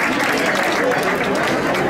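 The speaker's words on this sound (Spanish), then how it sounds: "pido un fuerte aplauso para la orquesta que lo está haciendo divinamente" An audience at a Christmas Roscón party for elderly people gives the orchestra a dense, sustained round of applause, steady and loud from start to finish with no gaps.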